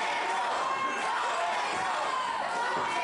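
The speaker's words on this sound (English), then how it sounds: "Crowd still chanting." Wrestling crowd at a Thanksgiving tag-team show keeps up a steady, dense roar of chanting and chatter from the stands, continuous and fairly loud throughout without a clear break.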